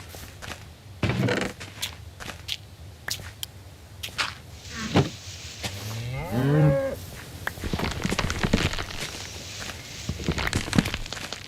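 Cows mooing in Minecraft during a one-block survival game, with a drawn-out bovine moo in the middle among clicks, footsteps and block sounds, close and clear with no talk.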